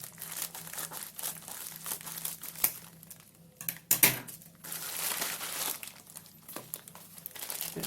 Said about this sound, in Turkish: paketi açıp fiziksel olarak bir lambayı inceleyelim